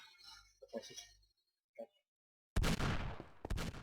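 Gunfire in Minecraft MineZ online survival play, a short burst of loud sharp shots in the second half following faint talk and quiet gaps.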